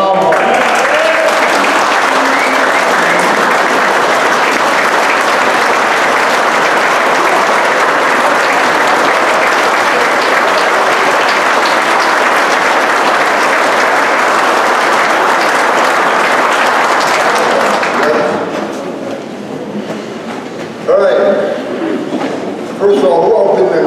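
A large room at a Clinton County Republican dinner bursts into long, loud, sustained applause and cheering for a guest, holding steady for many seconds before tapering off as a voice begins to speak.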